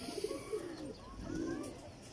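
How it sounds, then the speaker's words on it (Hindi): Original Kasuri pigeons coo softly in low, rolling phrases, a couple of calls close together with faint background hiss. "ये ओरिजिनल कसूरी कबूतर है।"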